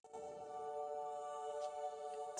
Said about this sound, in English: or I recorded my voice and added a tremolo effect here